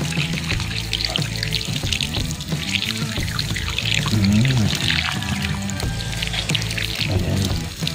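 Water pours and splashes steadily from a tap as insulin plant leaves are washed, close and continuous for the whole stretch, with background music or noise mixed in.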